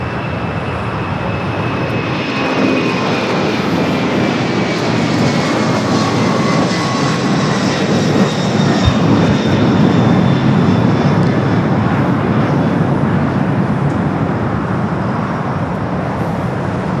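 Boeing 787 Dreamliner jet at LAX airport, a loud steady engine roar that swells slightly and holds for the whole stretch, with no voices.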